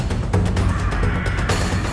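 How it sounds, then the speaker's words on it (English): A crow-like bird in the 7 Days to Die video game caws repeatedly in quick, harsh bursts over a dense background of game noise. "It's that bird that's flying around outside."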